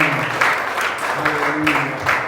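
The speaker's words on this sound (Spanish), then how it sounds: "Recibe este aplauso, Señor." A church congregation claps together in a steady rhythmic pattern, loud and close, with a voice speaking over the clapping throughout.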